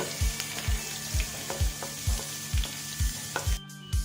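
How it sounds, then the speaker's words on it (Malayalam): Ginger and garlic fry over a medium flame in a pan, a steady close sizzle broken by regular scraping stirs about every half second, with no voices. "ഇഞ്ചി ആഡ് ചെയ്യാണ് കൂട്ടത്തിൽ നമ്മുടെ വെളുത്തുള്ളി ഒരു മീഡിയം ഫ്ലെയിമിൽ ഇട്ടാൽ മതി ഒരിക്കലും അത് കരിഞ്ഞു പോകാൻ പാടില്ല നന്നായിട്ട് അങ്ങ് ഇളക്കി കൊടുക്കുക"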